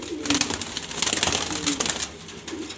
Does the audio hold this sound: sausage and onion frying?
no